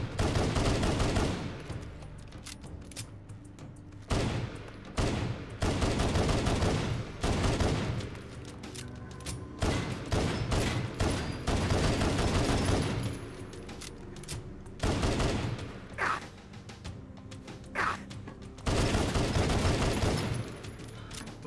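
Magnet weapon from a Halo mod firing in Fallout 4, loud repeated bursts of rapid shots broken by short pauses, close and dominant throughout.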